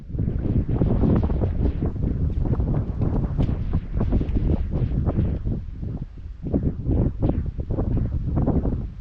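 Strong wind buffets the microphone on a fishing boat during shallow-water crappie fishing, a loud, continuous roar of gusts and low rumbling with no voices audible.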